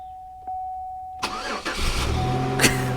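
A car engine cranks and catches, then settles into a steady idle after a few seconds of quiet hum beforehand.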